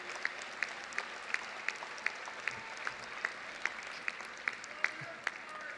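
Applause rings out from the audience at a high school commencement ceremony, a dense, steady patter of many hands with a few sharper claps standing out at a regular beat, heard from some distance and moderately faint.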